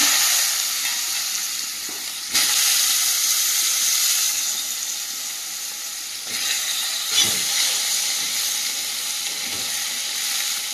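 Cut potatoes frying in hot oil with black cumin seeds, a continuous loud sizzle that swells at moments as the pieces are stirred and turned.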